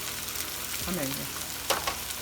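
Funnel cake frying in hot oil, a loud dense crackling sizzle throughout, with a brief shifting bubbling as it is flipped using two spatulas and a sharp scrape of the spatulas late on.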